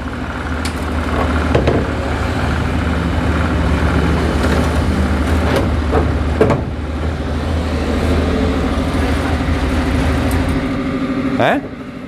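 An old Suzuki Zebra 1.3 car with a carburetor and a hard-starting engine runs at a steady idle, its loud, even rumble close by with faint voices mixed in.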